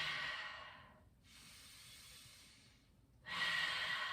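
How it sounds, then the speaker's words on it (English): Slow, deep yoga breathing, alternating long airy inhales and exhales close to the ear, three breath phases separated by short quiet gaps, with no talk. "And breathe."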